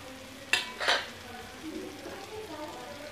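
Whole spices (cloves, cinnamon, black pepper and cardamom) dropped into a pan for a cashew masala curry, two quick sharp sizzles and stirring clatter followed by a faint, steady frying hiss.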